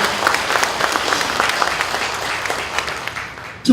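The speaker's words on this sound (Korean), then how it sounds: "어려운 싸움을 이끄시는 우리 오호섭 회장님께 뜨거운 박수 한번 주시면 어떨까요?" Sustained applause from an audience at a citizens' monitoring group launch ceremony in Busan, honoring the association chairman; dense, steady clapping throughout, fairly loud, fading slightly near the end.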